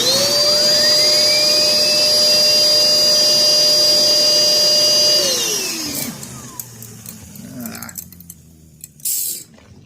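A homemade flywheel fan car spins up with a loud whining drone that holds steady, then drops in pitch and winds down, followed by quieter scattered clicks and bumps.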